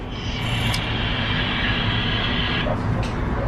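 A passenger train pulls out of Berlin, a steady rolling rumble under a faint high metallic whine from the wheels. The carriage noise holds constant and close throughout, with no talk.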